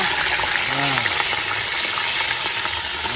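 Cod fries in hot oil with a loud, continuous sizzle and crackle up close, while voices murmur faintly in the background during the brief moment.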